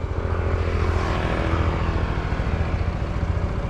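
A motorcycle engine drones steadily at close range, a loud, rough, pulsing throb that holds at a constant pace with no talking.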